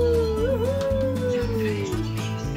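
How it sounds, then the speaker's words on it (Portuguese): Puppies howl and whimper in a rising, wavering cry that holds for a couple of seconds over a steady low background, close and fairly loud. "Cachorrinhos!"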